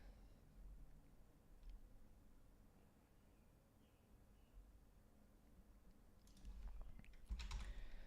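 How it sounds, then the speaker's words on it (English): Faint keystrokes on a computer keyboard while logging into a crypto exchange, with scattered quiet clicks building into a brief denser burst of typing near the end over a low room hum. "Just typing in security stuff."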